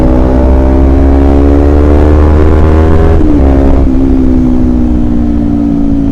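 A motorcycle fitted with an aftermarket exhaust hums steadily up close, then its engine note dips and climbs as the throttle is blipped midway.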